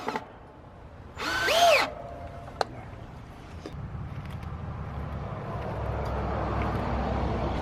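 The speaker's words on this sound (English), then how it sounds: "We countersink the screws" A power drill countersinks screws while a chicken coop is being built outdoors: one short, loud whir, then a quieter background hum.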